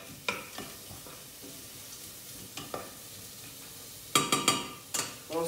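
Vegetables and lentils sautéing gently in a pan, a soft steady sizzle broken by intermittent spoon stirs and scrapes, with a brief cluster of louder clinks near the end; no voices.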